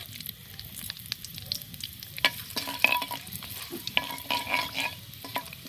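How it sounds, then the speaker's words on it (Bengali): Whole cumin seeds, torn bay leaves and dried red chillies crackle and sizzle in a little hot oil, with a steady fry broken by sharp pops and scraping stirs close by. "এক চামচ মতো গোটা জিরা দিয়ে দেবো দুটো তেজপাতা মাঝখান থেকে ছিঁড়ে দিয়ে দিলাম দুটো শুকনো লঙ্কা"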